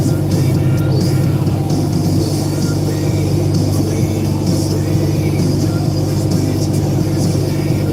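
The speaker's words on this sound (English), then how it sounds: "Two-stroke Detroit, man." Detroit two-stroke diesel truck engine, a loud continuous rumbling drone heard from close by, steady throughout with no break in the low throbbing.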